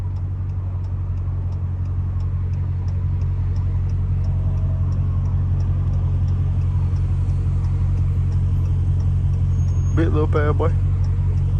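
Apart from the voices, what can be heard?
Dodge SRT Hellcat car engine while driving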